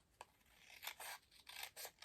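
Scissors snip through cardstock during a Stampin' Up! Christmas card project, giving several quick, close crisp cuts in an uneven rhythm with short pauses between them.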